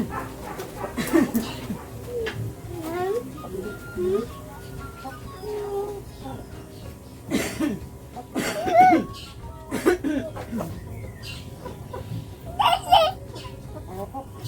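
A hen in a Filipino backyard gives several short clucks and squawks at intervals, close by, with a dog-like bark or cough mixed in and quiet background noise between calls.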